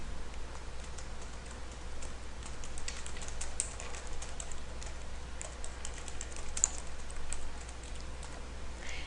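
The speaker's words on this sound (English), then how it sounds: "you just want to start by typing in your headline." A headline is typed on a computer keyboard, with rapid, light, irregular key clicks running steadily close by over a quiet background hum, with no talking.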